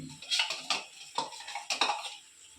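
A spoon scraping and clinking against a pot while ground coconut masala with chickpeas, cinnamon and cloves is stirred, about eight sharp metallic strokes in an uneven rhythm, close and clear with no voices.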